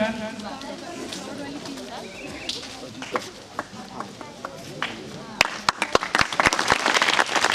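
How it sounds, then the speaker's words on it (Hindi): Applause from a crowd, a steady patter of many hands under a voice on a loudspeaker, growing louder and sharper toward the end. "सब तालियां बजाते रहे"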